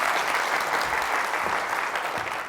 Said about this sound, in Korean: 잘 만들었다고 생각하시면 박수 한번 부탁드립니다.